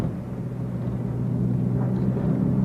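The Honda Dream II solar car rolls over a rough track, a low continuous rumble of tyres and chassis that swells slightly, heard from inside with no voices.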